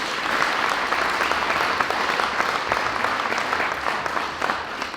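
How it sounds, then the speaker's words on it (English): Steady applause from a conference audience for a panel of department heads, dense and even across the whole stretch with no voices over it. "Just a round of applause again for our panelists."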